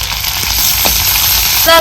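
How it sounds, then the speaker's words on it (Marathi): Crushed garlic and coconut tipped into hot oil sizzle and fry with a steady, even hiss, close by, ending in a brief metallic scrape near the finish. "आता हे तेल चांगलं गरम झाले, कुटून घेतलेलं लसूण खोबरं टाकते."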